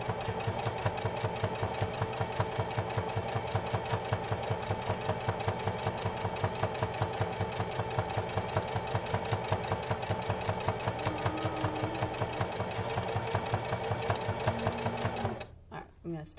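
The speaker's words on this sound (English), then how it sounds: "So now I'm going to sew all the way down" A sewing machine stitching pleats on a fabric mask, running steadily with a fast, even mechanical chatter for about fifteen seconds, close and loud, then stopping.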